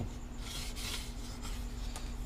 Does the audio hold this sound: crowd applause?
no